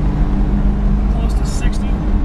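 A 1970 Plymouth Cuda AAR cruises at about 55 mph, its engine a steady low rumble with road noise inside the cabin. A voice talks over the drone.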